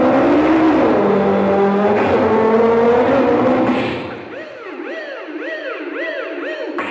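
A man vocally imitates a car chase, producing growling revving engine sounds that shift pitch before breaking into rapid rising-and-falling siren-like whoops, loud and close.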